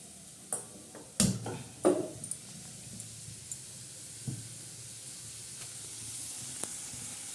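Onion sautés in a pan for a boiled-egg curry with a soft continuous sizzle, interrupted by a few sharp clinks and scrapes of stirring early on.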